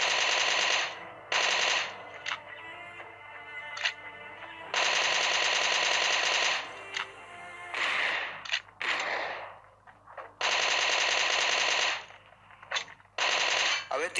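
Bursts of rapid automatic gunfire ring out in a shooter video game tournament match, loud stuttering volleys broken by short gaps and scattered single shots, with no voices.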